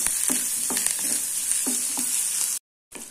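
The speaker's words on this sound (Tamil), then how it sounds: "அதனால இந்த வெங்காயம் நல்லா செவக்க வறுத்துக்கலாம்" Onions fry in a pan for drumstick kootu, a steady close sizzle with rhythmic spatula scrapes and taps, ending in a brief cut to silence before the frying resumes.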